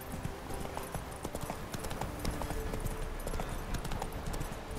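Horse hooves gallop in The Witcher 3 video game, a fast, busy clip-clop rhythm that stays constant throughout at moderate level with no talking.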